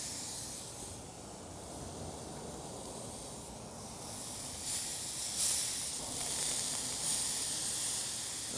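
Shrimp sizzle on the hotter side of a grill, a soft continuous hiss that swells slightly toward the end, heard alone without voices.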